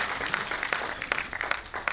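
Audience at a customer meet in Vrindavan claps together, a dense, steady patter of hands with a few sharper peaks, lasting under two seconds with no talk over it.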